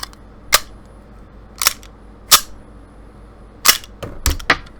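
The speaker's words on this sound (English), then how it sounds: "chuck that snap cap right out of there" Handling of a CZ99 pistol, with a few sharp metallic clacks and snaps spaced irregularly, including the slide being racked to eject a snap cap, close and fairly crisp against a quiet background.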